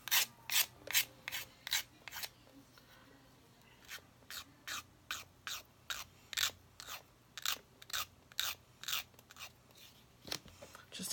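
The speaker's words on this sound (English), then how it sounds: "take an emery board, you can kind of sharpen the blade" A blade is sharpened with an emery board in a quick run of about two dozen dry rasping strokes, steady back-and-forth rubbing with short gaps, close and fairly quiet with no talk.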